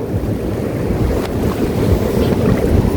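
Waves washing in on a rising tide along an open shore, a steady broadband rush of water with wind buffeting the microphone throughout, continuous and fairly close, with no voices.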